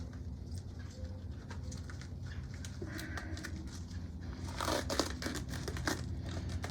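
Vet tape being handled, crinkled and stretched by hand, with steady rustling and a sharper burst of tearing and crackling near the end, set against background bird cooing.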